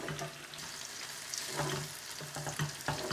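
Onions frying in oil for Mumbai vada pav, a steady close sizzle with soft crackling and small stirring knocks throughout.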